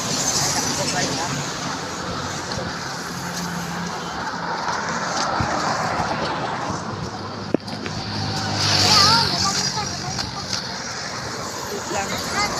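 Highway traffic rushes past steadily with a continuous roadway hiss and passing vehicles swelling and fading, heard from inside a moving vehicle, with a brief knock midway and faint voices in the background.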